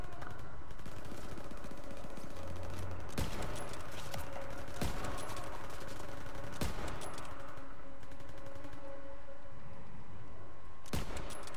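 Gunfire in a Call of Duty WW2 mission: bursts of rapid machine-gun fire mixed with sharp single shots, loud and close, recurring in clusters across the clip over a busy battle background.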